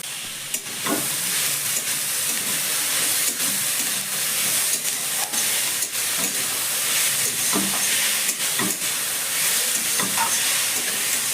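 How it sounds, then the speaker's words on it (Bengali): Grated raw potato, drained after rinsing, sizzles and hisses steadily in a pan with onion and capsicum, with intermittent scraping stirs over a continuous frying hiss and no speech. "এবার জল ঝরানো কাঁচা আলুটা আমি দিয়ে দিচ্ছি।"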